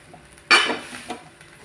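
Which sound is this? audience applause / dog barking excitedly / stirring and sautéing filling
stirring and sautéing filling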